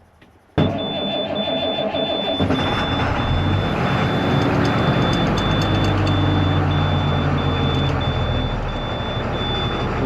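A fire truck camper's engine cranks and fires up abruptly, then settles into a loud, steady rumbling idle as it warms up, with a repeating high beep tone running over it.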